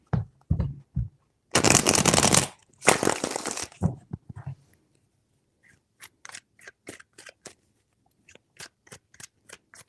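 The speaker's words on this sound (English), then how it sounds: "Three shuffles." Tarot cards shuffled by hand in two loud riffling bursts, framed by soft taps and followed by a run of quick, light card slaps and clicks at close range.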